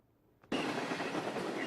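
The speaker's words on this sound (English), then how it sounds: "Trains are still moving down the Mishawaka tracks." A train moves along railroad tracks at a Mishawaka crossing, a steady broadband rumble that starts abruptly after a brief quiet lead-in and holds at a constant, fairly close level.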